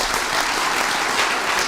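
Audience at a live political event applauds, a dense, even wash of clapping that stays loud for the whole moment without speech.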